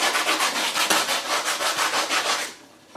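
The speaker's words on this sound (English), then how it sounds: "Let's sand this down." A part for a Scottish basket hilt sword is sanded by hand in steady, rhythmic back-and-forth strokes. The rasping is close and even, with no talking, and it fades near the end.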